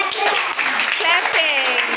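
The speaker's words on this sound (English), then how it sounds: "Clapping, clapping, clapping," Children clapping in a classroom during an alphabet lesson, steady claps under a chanting voice and children's voices throughout.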